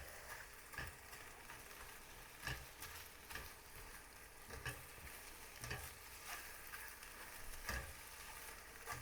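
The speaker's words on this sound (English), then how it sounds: "Yeah, they're scrambling up really good here." Freeze-dried eggs scrambling in a frying pan give a soft continuous sizzle, broken by repeated scraping and stirring strokes of a utensil against the pan at a steady close-up level, with no voices.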